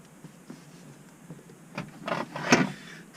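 Plastic interior trim on a BMW X1 being pried loose: faint scraping and creaking that builds to a sharp snap near the end, close and quiet.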